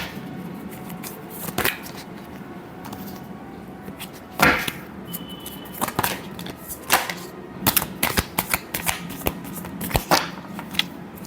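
Tarot cards being shuffled, producing sharp papery slaps and flutters in irregular bursts over a faint background hum.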